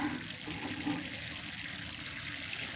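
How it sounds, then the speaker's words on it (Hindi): Water poured from a container onto a newly planted chilli seedling in soil, a continuous splashing gush heard close and fairly loud, alone with no talk. "अब हम दे लेंगे इनको पानी"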